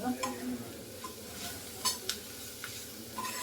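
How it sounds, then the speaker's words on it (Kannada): Spinach being fried on a low flame and stirred, with a steady soft sizzle and scattered scraping and clinking of a utensil against the pan, close by and with no one speaking. "ಇದೊಂದು 5 ನಿಮಿಷಗಳ ಕಾಲ ಸಣ್ಣ ಉರಿಯಲ್ಲಿ ಫ್ರೈ ಮಾಡಬೇಕು. ಕೈ ಆಡ್ತಾ ಇರಬೇಕು"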